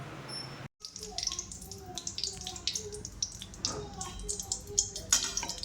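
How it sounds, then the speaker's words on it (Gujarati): Water is poured in to rinse ground paste out for a cashew curry, making a close, continuous splashing and trickling with small drips that carries on steadily after a brief gap at the start. "તો આને પાણી નાખીને કાઢી લઈએ હવે"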